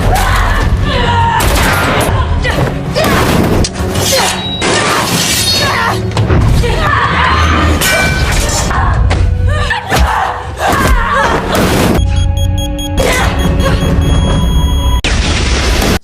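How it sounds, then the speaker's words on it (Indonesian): Explosions and chaotic fighting in an action film: heavy booms, thuds, shattering debris and bursts of rapid gunfire, loud and continuous throughout with dense noise. "Setelah terkena ledakan,"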